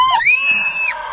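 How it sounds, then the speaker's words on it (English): A child's high-pitched scream rings out loud and close at a safari park near zebras, one sustained shrill cry that rises and falls within about a second. "These kids scream."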